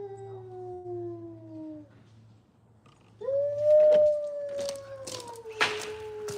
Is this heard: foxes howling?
yes